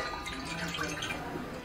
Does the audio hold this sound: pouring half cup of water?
yes